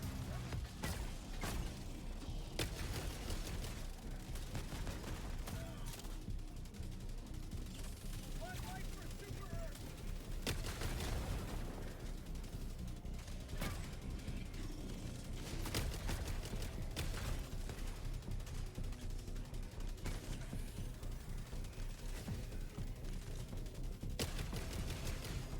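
Heavy weapon fire in Helldivers 2 with a flamethrower weapon in play, a dense steady barrage of blasts and booms throughout, with a person talking over the constant shooting.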